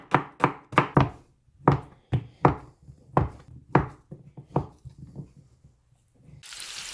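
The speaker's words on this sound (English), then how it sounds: "I'm just going to start chopping this up" A knife chops Spam and onions on a cutting board in a rapid run of about fifteen crisp, close thunks with uneven spacing. It ends in a brief wash of hiss.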